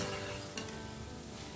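Boondi batter frying in hot oil, a dense, even crackle that fills the clip, with one brief clink partway through.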